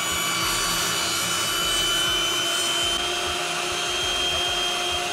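Wood being cut during construction of a recessed TV fireplace wall, a steady loud rasping saw noise running close and continuous for the whole stretch with no talk.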